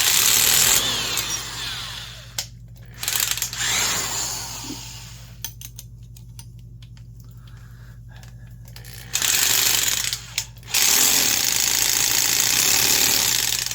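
A Porter Cable 2621 3/8-inch carpenter's drill boring a 1 1/4-inch hole grinds loudly in bursts, cutting out for a few seconds of near silence before roaring back, with a steady low motor hum underneath.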